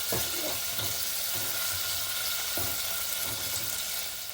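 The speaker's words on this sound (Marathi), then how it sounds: "टोमॅटो अगदी अर्धा एक मिनटं परतायचं आहे" Chopped tomatoes sauté in a hot pan with a pinch of asafoetida, a dense, steady sizzle close by, broken by a few soft scraping stirs and light knocks, no talking.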